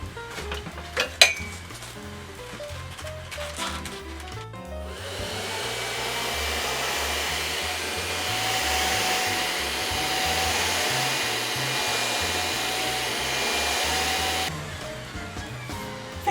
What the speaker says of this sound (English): We're going to vacuum this out.